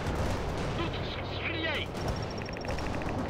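Battle sounds from the real-time strategy game World in Conflict: steady dense gunfire and artillery rumble fill the whole stretch, with radio voices talking over the combat.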